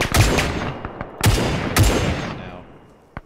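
Submachine gun fire in a Battle of Wake Island video game: three sharp, loud shots spaced about a second apart, each trailing off in a long echoing decay.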